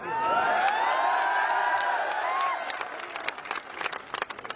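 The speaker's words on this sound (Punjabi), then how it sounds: "ਆਹ ਤਾੜੀਆਂ, ਆਹ ਲਲਕਾਰੇ, ਆਹ ਜੋ ਕੂਕਾਂ ਤੁਸੀਂ ਹੁਣ ਮਾਰ ਰਹੇ ਹੋ ਨਾ" A crowd at an outdoor rally against farm bills in Mansa applauds and cheers loudly, whoops and shouts rising together, then the clapping thins into scattered claps toward the end.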